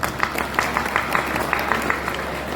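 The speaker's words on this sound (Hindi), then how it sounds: "एक बार जोर से तालियां बजा लीजिए।" Audience clapping at a Hindi public gathering with qawwali, sustained dense applause at steady moderate loudness throughout, a crowd responding together without speech.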